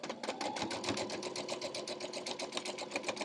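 A sewing machine stitches a scrappy quilt block made from fabric shreds, running steadily with a fast, even mechanical chatter that stays close and constant throughout, with no talk over it.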